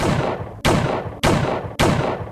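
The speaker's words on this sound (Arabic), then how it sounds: "خرجت طلقة وبعدها 4 طلقات كمان" Four loud gunshots ring out at an even, measured pace. Each is a sharp crack with a long, booming decay that fades just before the next shot.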